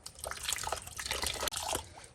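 Water pours and splashes into a container close by to rinse salted casings for homemade sausage, a busy gurgling stream with a brief break partway through.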